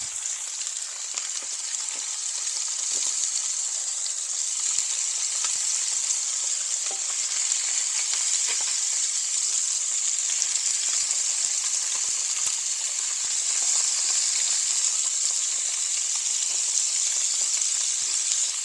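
Flounder fillet sizzling and frying steadily in a hot pan while being basted, a dense continuous crackle with small spatters throughout, close and fairly loud with no talking.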